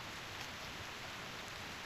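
Steady rain falling in the video game Reverse: 1999, a dense, even hiss of raindrops with no talk and no breaks.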